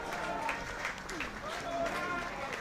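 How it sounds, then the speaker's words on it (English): Faint sporting applause from a crowd greets a runner pushing to the finish line at an athletics championship, heard softly beneath steady commentary. "pushing really hard to get across the line with a nice sporting applause from the crowd"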